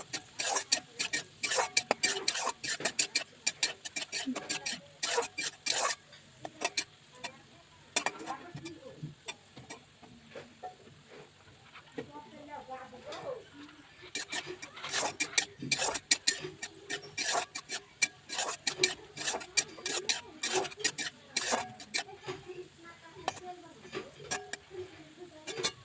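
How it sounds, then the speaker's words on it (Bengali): Carrots being stirred while they fry in a pan for Bengali fried rice, with frequent scraping and clinking of a utensil against the pan over a low sizzle, close and steady throughout. "হালকা আছে নাড়াচাড়া করে ভেজে নিচ্ছি"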